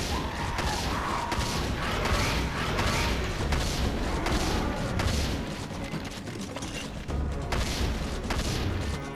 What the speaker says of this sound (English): we'll just keep layering in with the siege fire